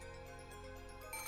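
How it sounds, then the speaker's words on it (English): A telephone rings inside a house, a steady electronic ringtone tone repeating quietly and continuously with no voices over it, growing a little louder near the end. "The phone ringing noise is really annoying."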